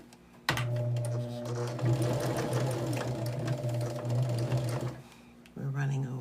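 Sewing machine stitching quilt block pieces for a Windflower block, a close, steady mechanical whir with a fast needle rhythm that starts abruptly, runs for several seconds, stops, then resumes briefly.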